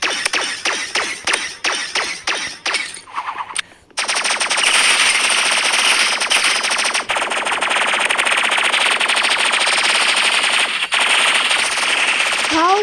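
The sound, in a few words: energy rifle gunfire in the video game Marvel Rivals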